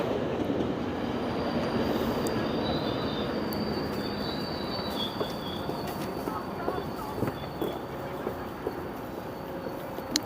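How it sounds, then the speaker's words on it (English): A Georgetown GO line commuter train pulls into a station at the Junction Triangle near Bloor in Toronto, giving a steady rumble of rolling cars with faint squeals and clicks of the wheels, heard continuously at moderate distance. "So there's the train pulling into the station."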